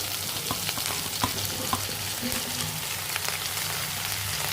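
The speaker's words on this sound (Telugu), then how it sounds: "ఇప్పుడు అన్ని బెండకాయలు వేసేసుకోవాలి." Okra sizzles and fries steadily in hot oil with tomatoes, a close, continuous crackle and hiss with occasional stirring clicks throughout.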